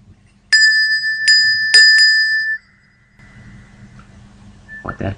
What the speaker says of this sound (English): here is the sound of the melodious bell